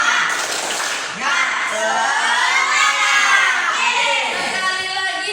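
A classroom of children shouts a spirited 'tepuk semangat' chant in unison, loud, high, sing-song voices rising and falling over about five seconds, with light clapping mixed in.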